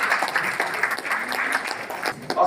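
Audience applause at an awards stage event for newly elected officers of Green Army Raipur, a steady crackle of hand clapping lasting throughout, fairly near and even, with a few voices faintly mixed in.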